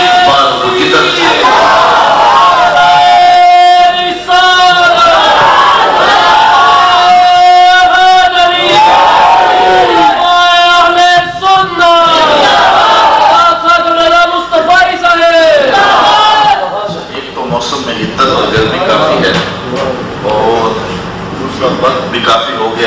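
A large gathering chants slogans in loud, rhythmic call-and-response bursts, with voices rising in repeated swelling cries throughout before the chanting fades into a more scattered crowd murmur near the end.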